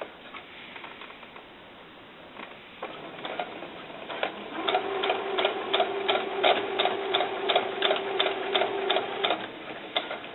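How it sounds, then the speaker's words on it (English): A sewing machine stitches doll snakeskin boots in a steady run of quick, rhythmic mechanical taps, close and moderately loud, rising after a few scattered clicks and holding an even pace. "So I'm easing it in as I'm sewing."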